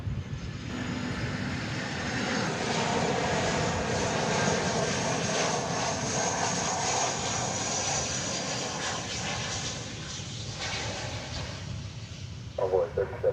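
An aircraft built in 2000 rumbles at DFW Airport, a continuous broad engine roar of moderate loudness, with a radio-like voice over it.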